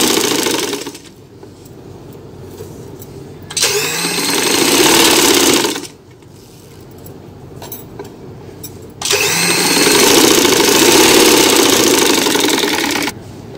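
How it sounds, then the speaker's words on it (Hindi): A sewing machine stitches fabric for a baby summer dress with eyelet lace in two loud, close bursts of buzzing motor whir, separated by quieter stretches of handling noise. "अब हम इसको ऐसे करके इधर सिलाई लगा लेते हैं एक"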